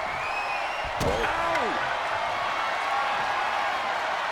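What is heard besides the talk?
arena crowd cheering in WWE 2K24 video game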